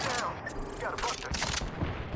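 Rapid bursts of gunfire ring out during a ranked Apex Legends match, loud and close, repeating in dense volleys with short gaps, while brief voice callouts sound over the shooting.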